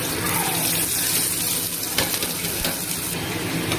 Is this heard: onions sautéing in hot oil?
yes